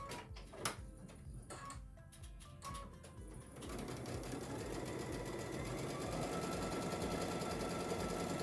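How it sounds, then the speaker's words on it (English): A sewing machine stitches quilt sections together for a flower-through-lattice quilt. A few clicks and handling noises come first, then a steady, continuous mechanical whir that runs close and even until the end. "We're going to sew that together."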